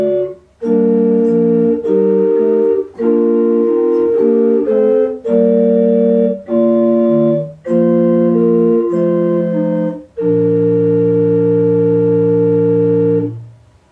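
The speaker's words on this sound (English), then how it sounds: "four-part harmonization of this chorale sounds beautiful on the organ" Organ playing a Bach four-part chorale harmonization of "Ach bleib bei uns", with sustained chords moving in slow phrases separated by brief breaths, clear and alone.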